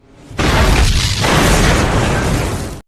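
A loud explosion bursts in suddenly and rumbles on as a sustained, roaring blast with crackling debris, close and filling the whole moment.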